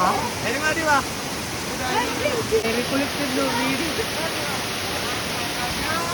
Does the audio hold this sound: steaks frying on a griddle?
no